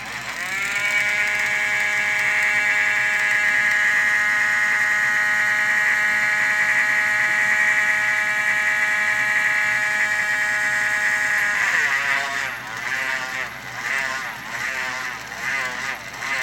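A pure silver Mexican Libertad coin is shaved down for a ring with a powered tool, giving a steady high whine for about twelve seconds that then turns into uneven wavering grinding.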